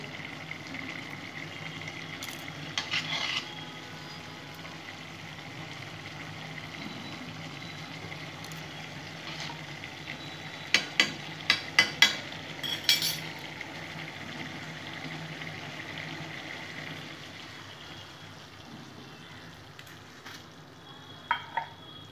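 Shukto cooking in a pan as ghee is added and stirred in, a soft continuous sizzle and simmer with a few bursts of clattering spoon scrapes against the pan.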